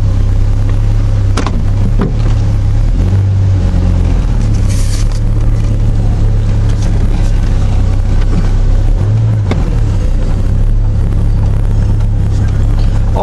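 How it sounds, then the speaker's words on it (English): A Jeep rock crawler being driven, its engine a loud, steady low drone that rumbles without a break, with a few brief knocks and swells in the sound. "Everything drives fine, and we're going for a drive."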